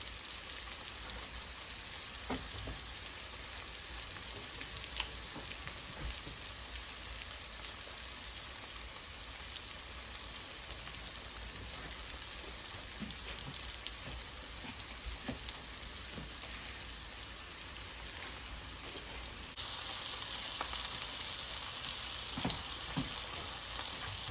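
Pork chops seasoned with Italian seasoning fry in a pan, giving a steady, close sizzle and crackle throughout, with scattered pops and a slight rise in intensity near the end; no talking.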